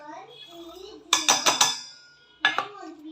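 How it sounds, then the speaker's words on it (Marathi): Clinks and knocks from handling a mixer grinder jar in a home kitchen while preparing Maharashtrian kulith shengole, with a quick burst of four sharp clatters followed by one more after a pause, close and fairly loud, with soft talk underneath. "येथे घेतलं आहे आपण मिक्सरचं भांडं"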